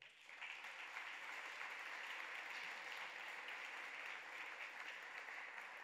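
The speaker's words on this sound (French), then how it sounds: "On peut vous applaudir." An audience at a francophone awards gala breaks into steady, dense applause that holds evenly, soft and without voices, for several seconds.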